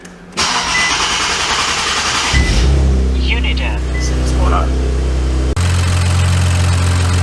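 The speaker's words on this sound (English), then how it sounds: "when we started the car, there was a really loud noise that I was really alarmed by" An Infiniti Q50/Q60 fitted with a new AMS high-pressure fuel pump cranks and fires into a loud, heavy start, then settles into a steady rumbling idle that abruptly shifts in tone near the end, with someone speaking briefly over it.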